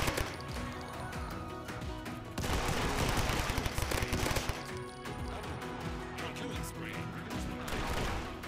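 Gunfire from the WipeSquad first-person shooter game, a dense busy layer of rapid shots and crashes running continuously under music and game effects.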